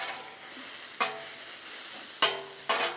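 Onions fry on a hot, fully fired griddle, a steady close sizzle hissing throughout, broken by three sharp scraping clicks of a spatula, with no voices.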